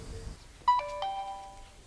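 A phone message notification tone plays as a bright chime of a few ringing notes that sustain and fade. It sounds alone and fairly quiet after a soft background hush.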